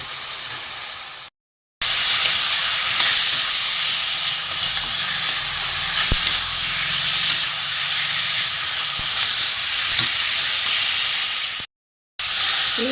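Pangas fish curry cooks with fried potatoes in a hot pan, giving off a loud, continuous hissing sizzle that holds steady, broken only by two brief gaps of silence.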